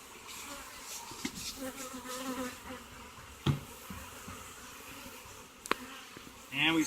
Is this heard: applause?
no